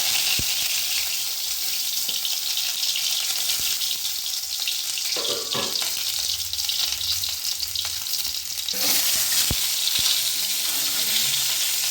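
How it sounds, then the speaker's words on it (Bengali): Half-boiled eggs fry in hot oil in a pan, giving a steady, close, loud sizzle for the whole stretch, with a few soft clinks and scrapes from handling partway through. "ডিমগুলো ভেজে নিচ্ছে"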